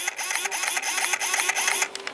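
A small electric motor on an RC model boat whirs and buzzes in quick, uneven bursts as the throttle is blipped up repeatedly, fairly close and moderately loud.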